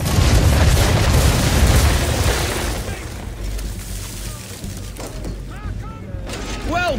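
Ship cannons in Assassin's Creed III fire a broadside, with heavy booms rolling together into a loud rumble that slowly fades, followed by creaking and whistling sounds at sea. Voices speak briefly between the blasts.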